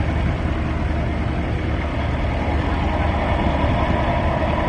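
A vintage 3-cylinder DJE 130 diesel tractor, an Isle of Ely machine, rumbles past in a steam rally parade, its steady low engine drone continuous and fairly loud with no talk.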